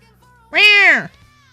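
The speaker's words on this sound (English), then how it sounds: "I don't know why Todd meowed at me" A single cat meow, close and loud, rising then falling over about half a second, heard alone in a quiet indoor room.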